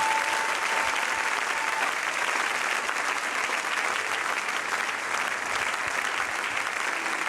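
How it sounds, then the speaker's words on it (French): Church congregation applauding and acclaiming God's presence, loud continuous crowd clapping that holds steady for several seconds with cheering voices mixed through it. "Est-ce qu'on peut acclamer la présence du Saint-Dieu?"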